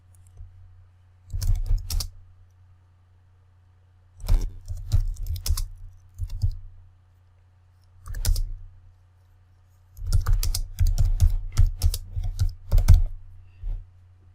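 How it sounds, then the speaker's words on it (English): Keys clatter on a computer keyboard in several bursts of rapid typing separated by short pauses, close and clear with no voices. "We can type something else here."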